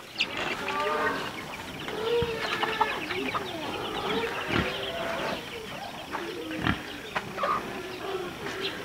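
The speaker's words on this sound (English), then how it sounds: "These are the chicks here from the last incubator hatch, and they're hungry as well." Hungry chicks from an incubator hatch and chickens cluck and peep continuously close by, with overlapping soft clucks and occasional sharper calls filling the pen.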